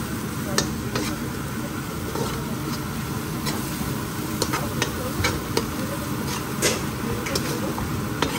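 Spices for shrimp biryani stirred and sautéed in a pan, a steady broadband sizzle with repeated sharp scrapes and taps of the spoon against the pan, close and continuous, without speech.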